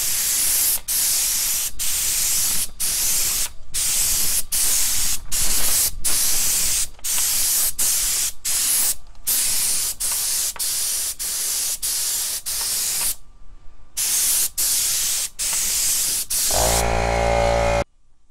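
Spray can applying 2K clear coat to a car headlight, a long continuous hiss broken by many brief pauses between passes, close and loud throughout.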